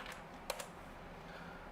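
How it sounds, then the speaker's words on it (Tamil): Typing on a computer keyboard into a web browser, a few light keystrokes early and then two crisp, close taps in quick succession, followed by quiet. "உங்களோட ப்ரௌசருக்குள்ளே போயிட்டு அமேசான் செல்லர் அப்படின்னு டைப் பண்ணிக்கோங்க."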